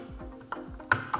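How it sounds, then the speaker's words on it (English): Small plastic clicks and a soft snap as a keycap puller pries a key off an ErgoDox mechanical keyboard, a few quiet close-up ticks with light scraping between them. "I can remove the key with this side and then I can switch it over and remove the switch with that side"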